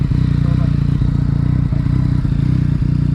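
A Yamaha MT-09 fitted with an Akrapovic titanium exhaust idles close by on gravel, a steady, throbbing low rumble with faint rhythmic pulsing throughout.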